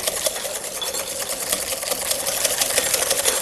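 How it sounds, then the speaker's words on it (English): Egg yolks whisked by hand in a bowl, a fast, steady, rhythmic scraping and clicking that stays close and fairly loud throughout, with no talking. "And you're going to whisk it until it just starts to lighten in color."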